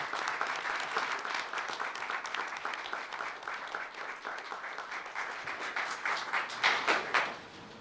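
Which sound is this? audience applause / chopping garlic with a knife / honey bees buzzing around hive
audience applause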